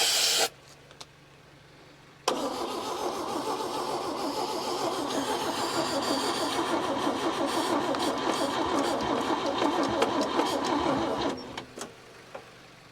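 A 1961 Chevy Biscayne, sitting in a junkyard for over 30 years, cranks after a shot of ether without firing, a long steady rhythmic starter churn that runs for about nine seconds after a short quiet gap, then stops.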